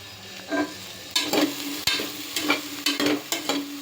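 Okra sizzles in a little oil inside a pressure cooker while being stirred, with repeated scraping bursts and a steady frying hiss. It sounds close and has no talking.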